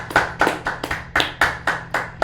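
A single pair of hands clapping close to the microphone during a live stream, with about nine sharp, evenly spaced claps in a steady rhythm and no talking.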